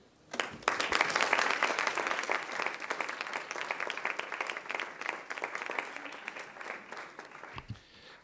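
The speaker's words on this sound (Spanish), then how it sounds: "No aplaudan que todavía no acaba." Listeners at an academic lecture on James Joyce clap after the talk, a moderately loud burst of applause that starts abruptly, fades gradually, and ends with a few scattered claps.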